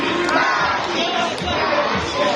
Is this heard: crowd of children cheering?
yes